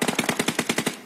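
Rapid automatic gunfire in a shooter video game, a tight burst of about ten shots at an even fast rhythm, loud and close, with no talk over it.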